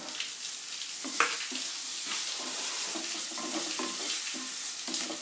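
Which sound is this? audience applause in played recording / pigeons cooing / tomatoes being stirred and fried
tomatoes being stirred and fried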